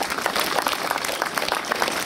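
Audience applauding at a 2015 Veszprém election rally, a steady, dense wash of clapping that holds evenly for about two seconds with no talk over it.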